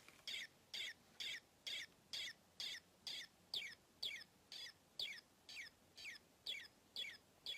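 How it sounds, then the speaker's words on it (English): Vintage toy bird chirper chirping faintly in a rapid, steady series of short bursts, about two per second, alone and quiet. "Oh, it's trying to chirp."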